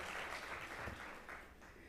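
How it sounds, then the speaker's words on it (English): Applause from an audience at a luncheon, a steady wash of many hands clapping that fades slightly toward the end. "Oh, I was getting claps"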